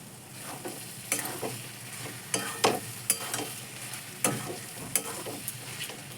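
Mutton keema with chopped green chilli and ground pepper is stir-fried in a pan. A soft sizzle runs underneath while a spatula scrapes and knocks in irregular bursts, close up.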